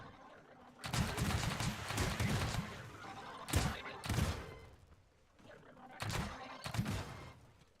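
Spud gun fired in Scrap Mechanic, three loud bursts of blasts and thumps at roughly two-second intervals, each cluster sounding busy and rattling before it dies away. Game audio fills the gaps between them.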